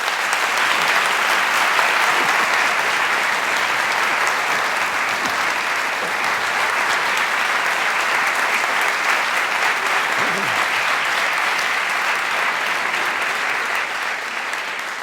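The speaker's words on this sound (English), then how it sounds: "Can we have a round of applause for both our guests?" An audience at an evening talk applauds its guests with sustained, dense clapping that carries at an even level before tapering slightly at the end.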